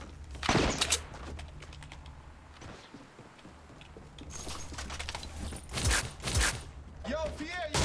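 Rapid turret gunfire in the Fortnite battle royale game, bursts of sharp shots clustered near the start and again toward the end, mixed with game effects and players talking over it.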